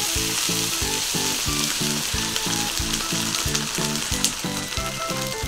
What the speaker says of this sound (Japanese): 玉ねぎがしなっとなってきたら水を入れます